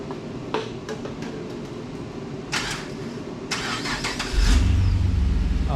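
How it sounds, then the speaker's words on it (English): A Chevrolet Caprice PPV police car being started for the first time after a suspension upgrade: a few cranking clicks and whirs, then the engine catches near the end and settles into a loud, close, rumbling idle, with no talking. "we're going to hear the first startup here"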